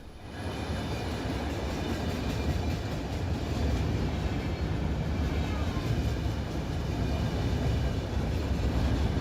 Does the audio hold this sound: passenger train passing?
yes